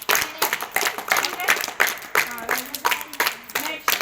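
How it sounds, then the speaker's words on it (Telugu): Quiz-competition audience clapping in a round of applause, irregular sharp claps from a small group, close and lively, with voices talking over it. "క్లాప్స్"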